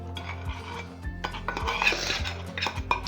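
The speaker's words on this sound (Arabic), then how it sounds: "وباش نصب الخليط نتاعنا على الجلجلين وباش نحركه بالباهي" A utensil stirs a sticky sesame seed halva mixture with honey in a pot, producing close scraping, knocking and clinking against the pan in an irregular rhythm.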